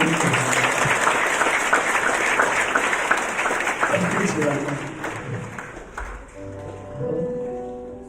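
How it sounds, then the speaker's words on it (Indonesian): Church congregation in Ambon breaks into loud, dense applause that tapers off after several seconds as a keyboard or organ chord rises beneath it. "Beri tepuk tangan yang meriah"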